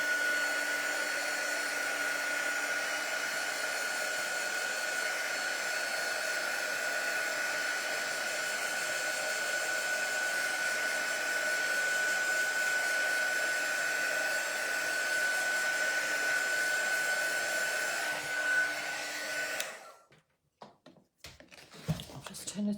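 Hair dryer drying a watercolour painting, a steady, loud, even whir that holds for about twenty seconds, then cuts off abruptly and is followed by a few light handling knocks.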